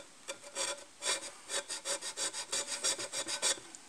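Hand hacksaw cutting a small groove into an electric motor brush, a steady run of close, rasping back-and-forth strokes at an even rhythm, with no talking.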